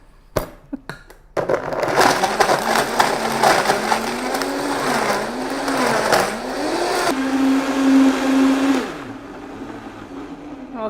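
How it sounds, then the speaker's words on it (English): Countertop blender whirring through fruit and water for a smoothie, starting after a few clicks and knocks, roaring loudly with a shifting motor pitch as the contents churn, then winding down into a fainter hum. "And now I'm going to blend this."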